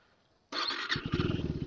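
Engine of a 2025 KTM Adventure 390X motorcycle catches and revs in first gear after a brief quiet start, holding a loud, close, throbbing drone with a pulsing low beat for the rest of the short burst.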